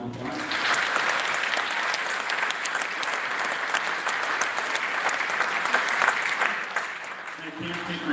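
Sustained applause from a school concert band audience, steady and full for several seconds, then fading as a voice begins at the end.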